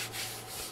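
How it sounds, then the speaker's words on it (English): A hand rubs back and forth across a laser-engraved wooden Halloween sign, a steady broadband scuffing hiss close by for under a second with no talk. "So you take your hand and kind of rub back and forth on there."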